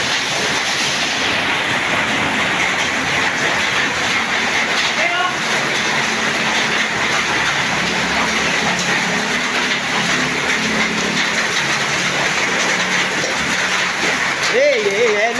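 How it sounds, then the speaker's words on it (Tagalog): Hail falls hard and steadily in the Philippines, a loud, continuous hiss and clatter that fills the whole stretch, while people talk over it in snatches. "Umulan na po ng yelo dito."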